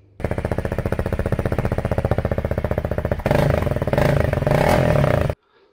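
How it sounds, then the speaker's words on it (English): A Honda CRF300L motorcycle engine idles with a rapid, rumbling exhaust pulse close by, then revs up louder and rougher before cutting off abruptly. "the exhaust is set back a little bit, so the sound should reverberate around in there"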